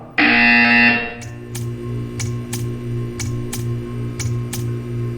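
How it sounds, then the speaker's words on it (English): A loud harsh buzzer blares for about a second in the video game Portal 2, then gives way to a low humming background with a series of sharp clicking ticks spaced at intervals. "You will hear a buzzer."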